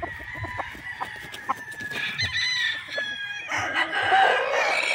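A Gilmore Hatch rooster with a straight comb crows in a long, loud call near the end, preceded by scattered clucks and farmyard noise at close range.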